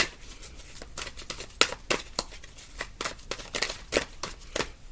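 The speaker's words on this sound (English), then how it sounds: "I always like to give them another shuffle before I pull" Tarot cards are shuffled close up, with a string of crisp papery riffles and soft slaps in irregular bursts, fairly quiet and with no talking.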